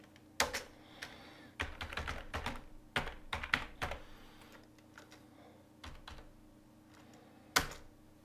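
Someone types on a computer keyboard while writing code, with irregular bursts of close, crisp key clicks and a few louder single taps between short pauses, quiet and alone.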